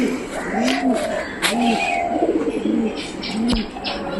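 Mukhi pigeons cooing inside a loft, with several close, low, rolling coos repeating in a steady rhythm, and a little background rustle between calls.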